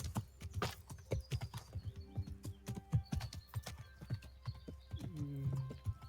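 Rapid, steady horse hoofbeats in a video game clip-clop along hard ground, close and rhythmic, with a short horse whinny near the end.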